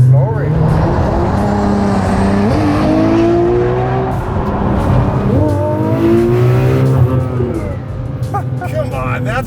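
A 2000 wheel horsepower Nissan GT-R running flex fuel accelerates hard, its engine note climbing steadily and loudly through rising harmonics for several seconds, with people talking over it.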